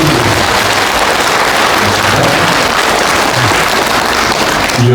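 Loud, dense applause from a large crowd at a Buddhist temple service, honoring a monk, steady and sustained throughout with no pauses.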